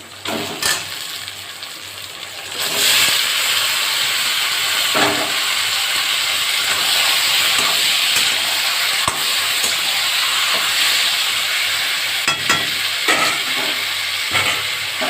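Country chicken pieces dropped into frying spice paste with onion and tomato for a Bengali chicken curry, flaring into loud continuous sizzling and steamy hiss, with occasional sharp scrapes and knocks of stirring against the pot.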